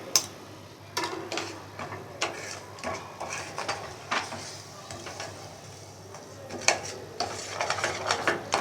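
A spoon stirring besan halwa with milk in a pan over a low flame, giving a steady stream of soft clicks and scrapes against the metal, close and fairly quiet, with no talk.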